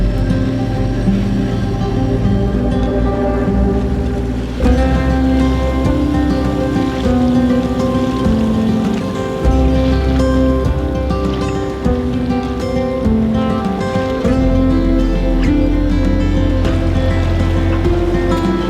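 A sailboat motoring in gear through a pass off Roatan in Honduras's Bay Islands, heading for a fuel dock: a loud, steady engine drone mixed with a constant rushing wash of water, with no talking.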